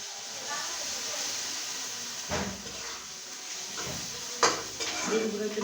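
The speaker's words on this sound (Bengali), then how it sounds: "ডিমগুলো একটু নাড়াচাড়া করে নেব।" Fish roe is stirred in a pan with a utensil, producing soft scraping and a few sharp metallic clinks against the pan over a faint sizzle, fairly quiet and close.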